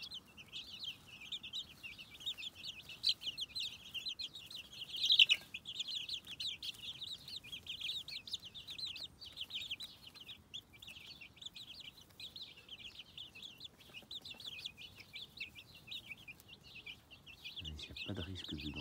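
Chicks cheep constantly in a thin, high, continuous chorus, fairly close and steady throughout, with a louder flurry midway and someone talking quietly at times.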